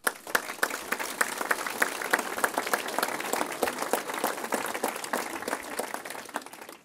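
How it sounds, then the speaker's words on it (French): An audience at a New Year's address by a party federation secretary claps, a moderate crowd with distinct sharp individual claps standing out, tapering off at the end. "que je vous demande d'applaudir"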